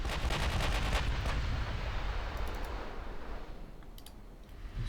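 Sustained gunfire from the video game DIP v2 Operation Husky, a US campaign battle, with dense, continuous volleys and crackling shots that stay loud throughout and thin out slightly toward the end.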